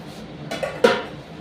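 A lid goes onto a pan of fried eggplant with two quick metallic clanks close by, the second sharper, set against a quiet kitchen.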